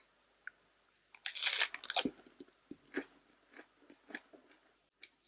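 Crunchy bites and steady chewing of crusty gluten-free ancient grain rye bread, close and quiet, with a burst of crisp crust cracking followed by softer, irregular chews.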